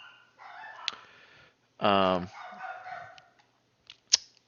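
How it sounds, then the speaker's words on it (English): Dogs bark indoors after a doorbell, with one loud, close, strongly pitched bark and a few sharp shorter yips later, between stretches of a person talking nearby. "somebody just rang my doorbell, and the dogs are barking"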